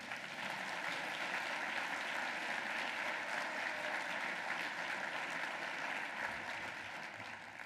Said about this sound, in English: Applaud Jordan if you don't mind.